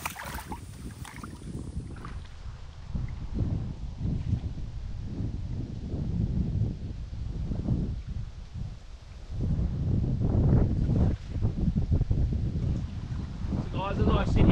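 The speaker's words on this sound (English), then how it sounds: "Wind's picking up a fair bit, as you guys can hear." Gusty outdoor wind beside Wandandian Creek buffets the microphone with a steady low rumble that swells and eases, strengthening toward the end, with no talking.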